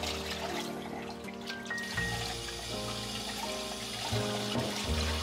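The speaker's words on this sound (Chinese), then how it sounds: "边冲凉边搓洗煮熟的素面。" Cooked somen noodles being rubbed and rinsed under a steady stream of running tap water in a sink, a continuous near splashing flow with soft handling noises and no talk.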